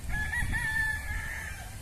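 A rooster crows in a long, drawn-out call, fairly close, over a low background rumble.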